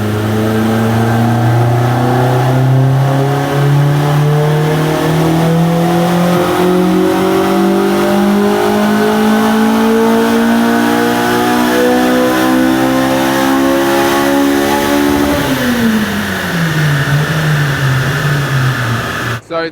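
Revving loud and near, the remapped Honda Civic Type R EP3 with drop-in cams pulls a long, rising dyno run for some fifteen seconds, then the engine note falls off as it winds down.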